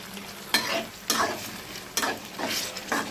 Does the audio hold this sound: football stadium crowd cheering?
no